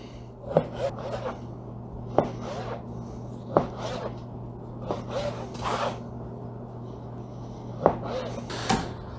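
A knife slicing beef eye of round into thin strips for jerky on a cutting board: a steady series of crisp cuts and soft rasping strokes, roughly one every second or two, close and moderately loud, with no talk.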